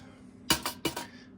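A heavy 5-inch Lodge cast iron pan clanks down onto a titanium wood stove in two quick metallic knocks, close up and with no talk.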